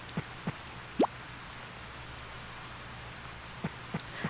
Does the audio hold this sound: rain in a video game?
yes